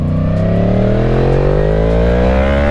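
A Yamaha MT-10 1000cc naked motorcycle accelerates hard, its loud close engine note climbing steadily in pitch through a single sustained pull with no talking.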